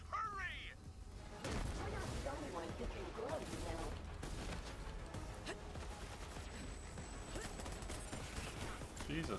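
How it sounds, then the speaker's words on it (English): Dense rapid gunfire and blasts of explosions fill a Borderlands 3 firefight, a constant chaotic barrage of shots and booms layered over game sound effects and music. "there's explosions everywhere"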